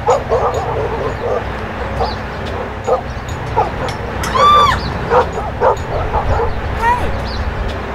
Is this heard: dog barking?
yes